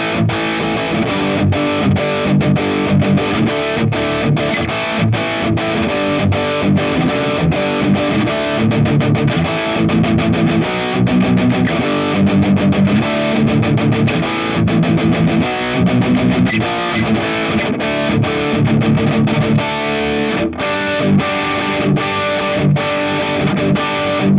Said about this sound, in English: my first preset I have in here is kind of a more everyday rock, punk rock kind of tone, and it sounds like this